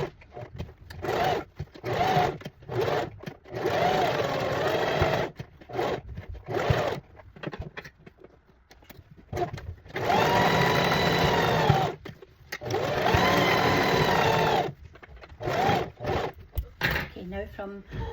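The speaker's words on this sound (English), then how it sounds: "we're going to carefully sew through the lace and around the points" A sewing machine stitches through lace in bursts of fast, close mechanical whirring, with short and long runs separated by pauses and small handling clicks.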